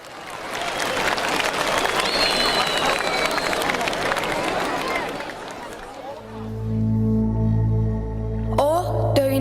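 Audience applauding to welcome a children's choir onto the stage at a patriotic concert, sustained crowd clapping for about six seconds, then giving way to sustained musical tones as the performance begins.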